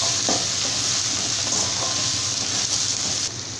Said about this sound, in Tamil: இப்போ இதெல்லாம் சேர்த்துட்டு நல்லா இந்த மாதிரி mix பண்ணிக்கலாம்